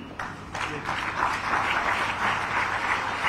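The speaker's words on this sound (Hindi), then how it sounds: "तालियां लगातार और जोरदार हो।" A crowd at a Ranchi ceremony, where Chief Minister Hemant Soren hands appointment letters to new community health officers, breaks into applause that swells after a moment into steady, fairly loud clapping.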